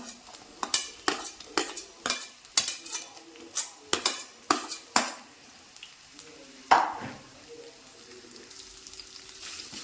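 Onion going into a pan for a papaya curry, with a series of sharp metallic clinks and scrapes of a spoon against the pan over faint sizzling, close up, then quieter frying.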